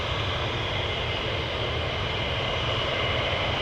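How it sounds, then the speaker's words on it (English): Military jet aircraft on the takeoff roll at RAF Lakenheath, a steady, loud, broadband engine roar that holds unbroken throughout without any voices. "Clear for takeoff."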